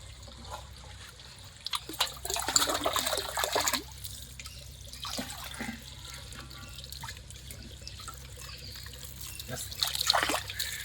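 Water draining out of a catfish pond on a fish farm, a steady trickling and splashing flow with louder gushing bursts, heard outdoors with a low background hum.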